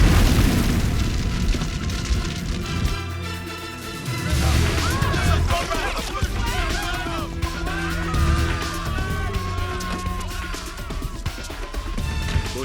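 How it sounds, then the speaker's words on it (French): An explosion in a French thriller film, a sustained loud roaring blast with booming low rumble and crackling debris that stays dense throughout, with voices faintly mixed in. "fais tout exploser"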